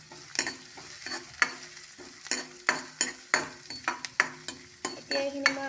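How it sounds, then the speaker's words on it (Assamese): Onions and chillies fry in ghee as a utensil scrapes and stirs the pan again and again in a steady rhythm, each stroke set against a continuous close sizzle, with no talking. "ঘিখিনি অলপ গৰম হোৱাৰ পিছত ইয়াতে মই পিঁয়াজ আৰু জলকীয়া দি দিছোঁ।"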